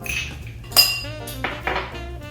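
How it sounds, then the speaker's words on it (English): A bar spoon stirs a bourbon or rye whiskey cocktail over plenty of ice in a glass, giving close, bright metallic clinks and ringing chimes that come in a few irregular bursts, with no talking. "I'm just going to be stirring the drink."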